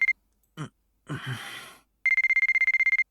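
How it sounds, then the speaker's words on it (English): Phone ringing in the visual novel White Album 2: a steady, evenly pulsed electronic ring, a brief burst at the start, then a long run of rapid repeated trills after a short rustling noise, loud and close. "Ooh, that phone is starting to drive me nuts."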